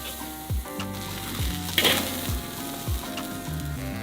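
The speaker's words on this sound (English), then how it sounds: "I think our steak is ready to be seared" A chocolate-rubbed smoked steak sears in a hot pan, giving a steady close sizzle and frying hiss with a few soft thumps and scrapes of handling, over faint tonal background music.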